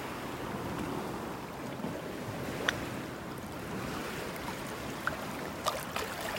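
Waves rolling onto a beach in North Naples, Florida, a soft continuous wash of surf mixed with wind buffeting the microphone, with a few faint distant taps and no talking.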